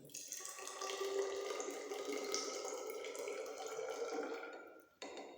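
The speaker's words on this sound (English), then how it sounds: "I carefully pour out the liquid part, then I remain with the solid part" Liquid is poured out of a beaker during decantation, a steady close splashing stream lasting several seconds before it cuts off, followed by a brief clink.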